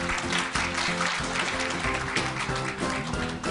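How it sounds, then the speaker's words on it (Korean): An audience applauds the award winners at the 21st Korea Semiconductor Design Contest awards ceremony, a steady wash of clapping over a low tonal backdrop that lasts the whole stretch. "여러분 수상자에게 다시 한번 큰 박수 부탁드립니다"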